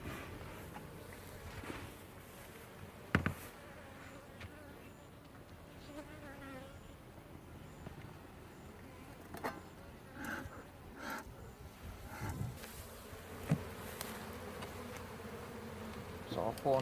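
Honey bees from an opened, queenless hive buzz steadily and close, a dense droning hum with individual bees whining past, and a few light knocks and handling sounds scattered throughout.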